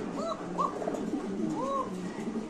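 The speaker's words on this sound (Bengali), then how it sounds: "সো দর্শক এখানে আছে একদম স্প্যানিশ কবুতর।" Spanish pigeons at a bird market coo softly nearby, several rounded rising-falling calls overlapping in a low murmur with steady background hum.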